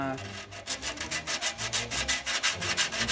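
Sanding the freshly cut steel deck of a 195cc Tecumseh brush mower, a rapid series of rhythmic back-and-forth rasping strokes, close and fairly loud, with no talk.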